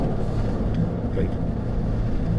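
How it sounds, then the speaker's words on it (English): A 2025 Cadillac Escalade V rumbles with a low, steady exhaust gurgle, close and continuous for a couple of seconds. "Little gurgle in the old Escalade V."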